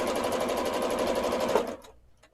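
Small-throated sewing machine stitching a quilt, a fast, even run of mechanical needle beats, close and loud, that slows and stops near the end.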